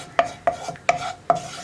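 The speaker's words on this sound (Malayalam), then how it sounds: "ഇത് രണ്ടും ചേർത്തിട്ട് നന്നായിട്ടൊന്ന് ഇളക്കി മിക്സ് ചെയ്യാം" A spoon scrapes and taps rhythmically against a pan, four distinct knocks, while Kashmiri chilli powder is mixed into oil on low flame for an egg curry; close and clear with no talking.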